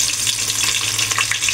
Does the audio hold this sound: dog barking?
no